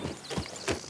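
A horse in the Red Dead Redemption 2 video game makes quick clip-clop hoof steps, close and steady, over a brief stretch.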